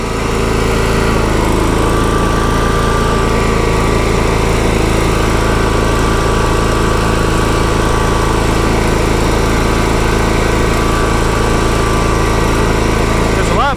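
A John Deere SST-15 Spin Steer riding mower engine runs steadily and loudly up close, a continuous droning hum with no pauses throughout.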